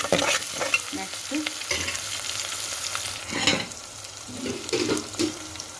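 Broad beans, tomato and potato for a curry frying in a pan, with steady sizzling and repeated scraping stir strokes from a utensil, close and fairly loud, no voices.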